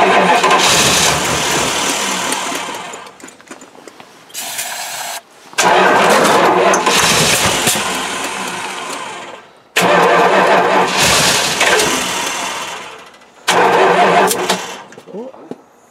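An old 360 engine that has sat for three years is cranked repeatedly, with several loud bursts of cranking and sputtering separated by brief pauses, close to the microphone.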